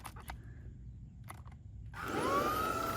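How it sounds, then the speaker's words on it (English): A Tenneco stick vacuum picked up from the curb, about 2022 and apparently clogged, switches on after a couple of quiet handling clicks and settles into a steady, fairly loud motor whine. "So I've got a Tenneco stick vac here."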